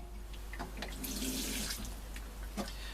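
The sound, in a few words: water running into pot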